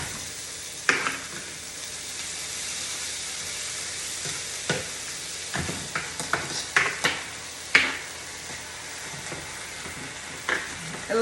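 Hashbrown potatoes fry on a flat top griddle with a constant crackling sizzle, broken by scattered sharp scrapes and taps of a spatula turning them, close and fairly loud with no voices.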